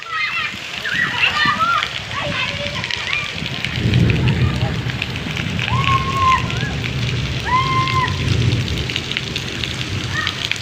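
Steady rain hisses and patters close by while children and adults talk and call out over it.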